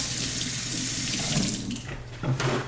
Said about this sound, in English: I'm gonna rinse my hands here.